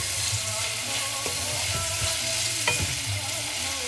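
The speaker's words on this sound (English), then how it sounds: "So just keep sauteing till it becomes soft." Vegetables for escabeche are sautéed in a pan, a steady close sizzle broken by repeated scraping and clinking stirring strokes, with no voices over it.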